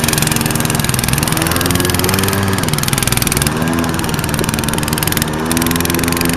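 A mini bike engine with hardly any muffler runs loudly and close, a harsh buzzing rattle that revs and dips slightly while holding a steady drone throughout.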